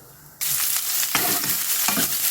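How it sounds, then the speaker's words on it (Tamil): Mustard seeds, cumin and chana dal lentils tempering in hot oil: after a quiet moment, a loud, close, constant sizzle starts, with sharp crackling pops. "கொஞ்சம் கடலை பருப்பு போட்டுக்கலாம் நல்லா பொரிஞ்சு வரட்டும்"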